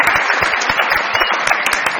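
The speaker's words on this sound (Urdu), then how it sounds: "بہت ساری تالیاں بجائیے" Studio audience applause on a Pakistani comedy talk show, a dense steady wash of many hands clapping, loud and continuous for the whole stretch with no speech over it.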